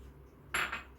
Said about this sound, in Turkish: 3 yumurtamı un karışımının üzerine döküyorum.